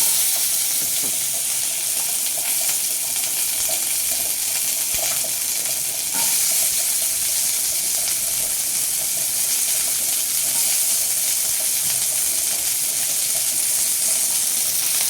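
Two onions fry in masala-infused oil, a loud, continuous dense sizzle and hiss with faint stirring clicks running steadily throughout, close up and with no talking.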